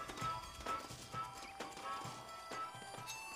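Horse hooves clip-clop in a steady walking rhythm inside a video game, close and clear, with a musical score playing underneath and no talking.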